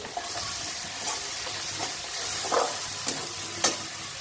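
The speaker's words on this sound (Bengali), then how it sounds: "মশলাটা কষে নেব শুকনো লঙ্কা হাফ চামচ দিয়েছি" Spices with dried red chilli and homemade garam masala frying in a pan for a taro vegetable curry give a steady close sizzle and hiss, with a few soft stirring scrapes and clinks through it.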